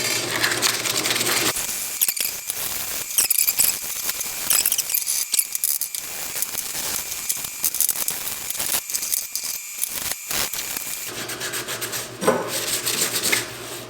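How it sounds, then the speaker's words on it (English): Metal wrench-style cabinet handles rubbed with worn 120-grit sandpaper give off quiet, repeated rasping strokes in uneven bursts, close by and with no talk. "I'm just going to take these, scuff them up a little bit."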